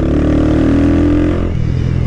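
A modified Twister motorcycle with a reworked carburetor revs hard up close. The engine holds a high, buzzing pitch for over a second, then drops off sharply toward idle.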